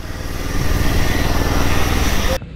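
A motorcycle engine runs loud and close with a steady, rough drone that holds for over two seconds before cutting off abruptly, no talking over it.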